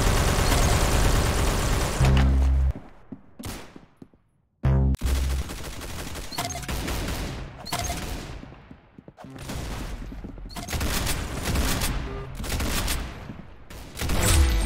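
Rapid bursts of gunfire from the Roblox game Arsenal, loud and close, coming in repeated volleys separated by brief pauses and one near-silent gap, with no talk over them.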